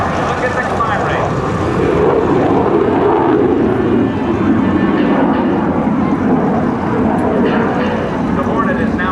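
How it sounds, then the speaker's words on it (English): A US Navy F/A-18C Hornet jet at the 2006 NAS Oceana airshow roars loudly and steadily as it climbs, while an announcer speaks over the engine noise. "Your United States Navy's A-18C Hornet. Look at the climb rate."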